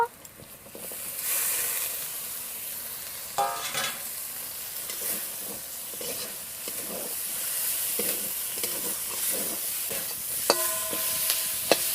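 Dried fish goes into a frying paste of ginger, garlic and coriander in a village kitchen, setting off a steady close sizzle with occasional stirring scrapes and small pops throughout.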